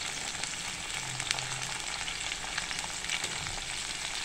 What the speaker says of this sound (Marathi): अशी आपण आता भेंडी तळून घेणार आहे ही